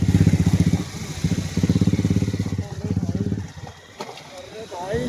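A motorcycle on a mountain route from Pang to Manali in Ladakh chugs nearby with a loud, pulsing thump that swells and eases in bursts before dropping away, while a person speaks over it.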